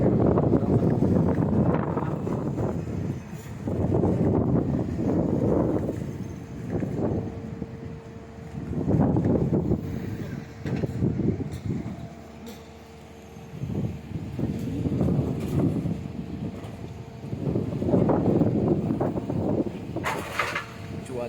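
Strong west wind blows in gusts in Southeast Sulawesi, roaring loudly against the microphone in repeated surges with short lulls between them.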